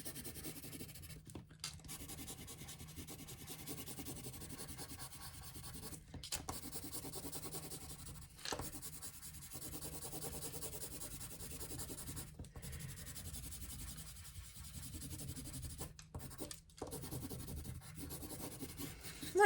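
A pen scratches and rubs steadily across a sheet of paper in close, continuous strokes with short pauses, quiet and alone.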